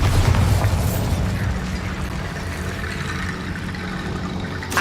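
The Bombarda explosion spell in Hogwarts Legacy, a loud booming blast at the start that settles into a rumbling, crackling decay of debris and magic effects, no talking.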